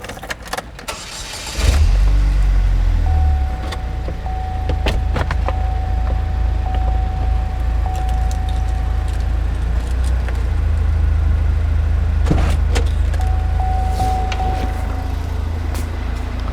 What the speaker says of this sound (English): I'm gonna start the car up.